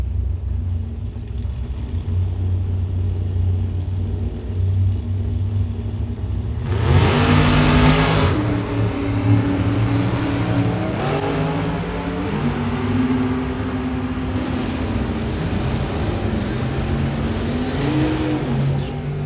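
A Mustang and a 1968 Camaro at a drag strip produce rumbling engines, a sudden loud roar of launch, then rising and falling revs as the cars pull away, with a constant low drone under it all.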